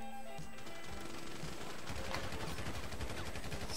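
Rapid bursts of automatic gunfire in GTA Online rattle in quick succession, a steady mechanical stutter at moderate loudness with no voices.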